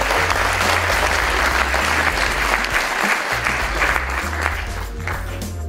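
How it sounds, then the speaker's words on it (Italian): Audience applause at a presentation event welcoming a performing group, loud and sustained for the full stretch with a steady low hum beneath it and no talking. "intanto un applauso Banda Lupin e Cattivi al seguito"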